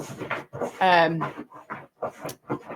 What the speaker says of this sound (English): If you can hear that, that is the puppy.